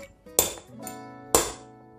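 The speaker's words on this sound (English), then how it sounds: "using number 16 socket, we will push the bearing in" A 16 socket being struck to press a bearing into a Robot Coupe blade assembly, two sharp metallic knocks about a second apart, close and ringing briefly, with a lighter tap between them.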